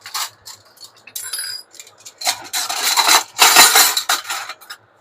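Stainless steel serving spoons, rice spoons among them, clink and rattle against each other in a rapid, irregular series of bright metallic knocks and scrapes, loud and close, with no voices.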